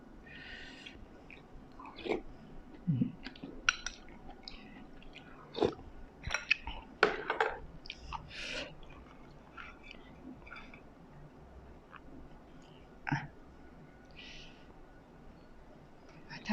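Someone eating rice and fish, with soft, close mouth sounds of chewing and biting spread irregularly through the stretch, quiet and intimate, with faint breathy noises and occasional whispered vocal sounds.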